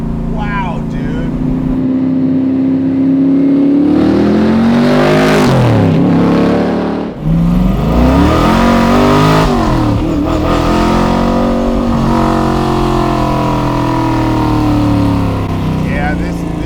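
A 550 hp C3 Corvette track car's engine revving loudly up and down in repeated sweeps, a deep, rough V8-style roar heard from inside the car, with people talking under the noise.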